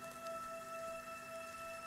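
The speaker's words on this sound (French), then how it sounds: "Il pleut un peu, heureusement, ça a dû éteindre les flammes." Light rain falls in the Australian bush of the video game Paperbark, a soft, steady patter of drops across the whole stretch with a faint hum beneath, alone and without talk.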